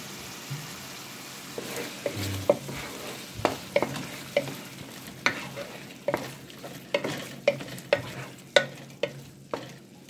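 Squid and Malabar spinach stir-fry in a pan with oyster sauce, a low sizzle under repeated crisp scraping strokes of a spatula in a steady, quickening rhythm.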